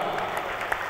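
Audience applause at a Hindu religious gathering, the Kalki Mahotsav, following a swami's address: dense, steady clapping from a crowd, fairly close and continuous throughout.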